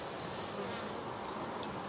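Honey bees buzz continuously at a beehive entrance, a dense close-up drone of many insects that stays steady throughout with no voices.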